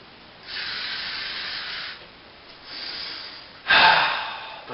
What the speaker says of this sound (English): I'm gonna use some Old Spice spray.